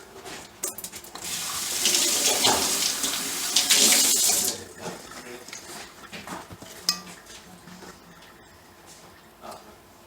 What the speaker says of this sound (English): And we rinse it.